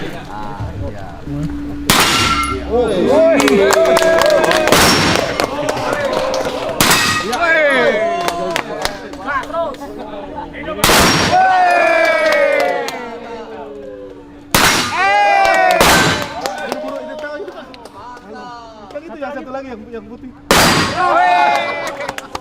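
Guns firing at the opening of a shooting range, about seven loud sharp reports spaced several seconds apart, each ringing out with a metallic echo while people talk between the shots.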